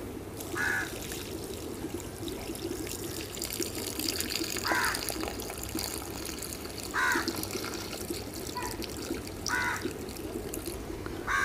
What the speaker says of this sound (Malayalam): നമ്മൾ വീണ്ടും വെള്ളം നിറയ്ക്കുകയാണ്.